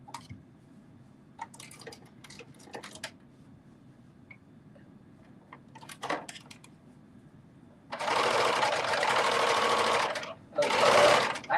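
A serger overlocks the edges of a fray-prone fabric for a Simplicity 9368 face mask, running in two loud, steady bursts near the end after a stretch of quiet handling noises.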